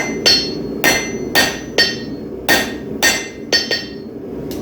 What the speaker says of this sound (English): So I'm forging 6 knives.